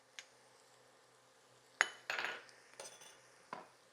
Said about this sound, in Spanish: vamos a agregar el ajo picadito